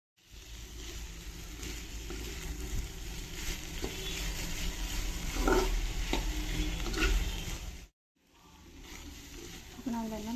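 Chopped carrot, onion and mushroom cooking with salt in a pan give a steady, close sizzle with stirring noises; the sound drops out briefly before resuming near the end.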